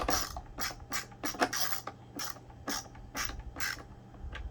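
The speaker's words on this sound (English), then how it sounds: "back up the screw a little bit and then drive it in so you know it's lined up correctly" A screw driven into the cleaner head of a Bissell 12B1 PowerForce Helix vacuum during reassembly, heard as a close, quiet series of short creaking, ratcheting bursts at an uneven rhythm.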